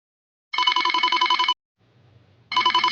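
A telephone rings in two loud, clear bursts about a second long, separated by a quiet gap with faint low noise.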